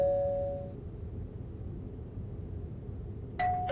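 A doorbell in a dubbed anime scene gives a clear ding at the start, then a second chime enters near the end over a low background hum.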